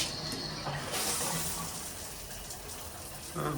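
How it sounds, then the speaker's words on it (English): Shower water runs in a Disney Grand Californian hotel bathroom, a steady close hiss of spray splashing with no pauses, fairly quiet overall. "I used to think that the water pressure in the Grand Californian wasn't that great. I'm going to try that out right now."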